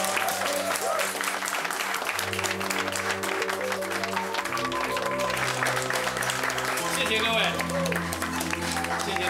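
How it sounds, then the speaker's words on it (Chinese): Guests at a party give sustained applause to welcome arriving hosts, a dense steady clatter of clapping under prominent background music. "让我们掌声欢迎沈乐天先生以及他的心肝宝贝沈妍希小姐"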